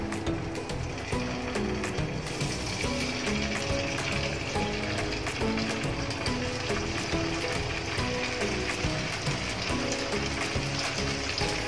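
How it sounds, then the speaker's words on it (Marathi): Cornflour-coated paneer pieces shallow frying in oil give a dense, steady sizzle with scattered crackles running throughout, loud and close with no talk over it. "आता आपण हे पनीरला कॉर्नफ्लॉवर लावून ठेवले होते, हे आपण शॅलो फ्राय करून घेऊया।"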